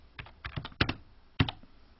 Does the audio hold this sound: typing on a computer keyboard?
yes